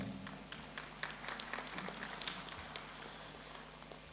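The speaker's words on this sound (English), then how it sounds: "Give him another big round of applause." Scattered clapping from a crowd at an academy convocation ceremony, light and somewhat distant, steady for a few seconds with no voices over it.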